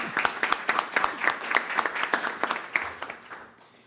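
Audience applause at a panel discussion event, a crisp rhythmic run of clapping with distinct, fairly regular claps, moderately close, tapering off at the end.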